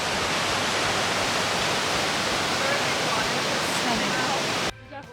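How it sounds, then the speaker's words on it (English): Steady, dense rush of running water from a mountain waterfall in the backcountry of the Tetons, loud and continuous, cutting off abruptly near the end. "We thought we heard running water"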